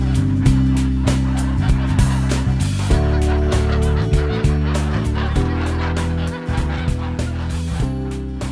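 Free-range geese honking in a loud, dense flock chorus, with overlapping calls continuing steadily throughout.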